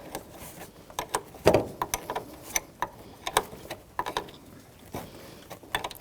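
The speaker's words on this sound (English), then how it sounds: "Take your 10mm wrench or socket" A ratchet wrench clicks in short, uneven bursts as it snugs down a battery terminal nut on a Jeep Patriot, quiet and close with no voices.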